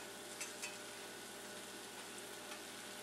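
Pieces of orange chicken sizzle quietly in a pan as a steady, faint frying hiss with a few soft pops.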